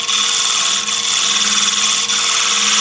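A wood lathe spins while a gouge cuts a turned candy dish, giving a loud, continuous, close hissing whine with a steady hum underneath and two brief dips where the cut eases.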